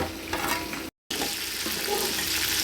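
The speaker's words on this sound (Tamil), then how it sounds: "இன்னும் நல்லா கொதிக்க விடணும்." Chicken curry bubbling on a stove, a steady sizzling simmer with a brief dropout partway through.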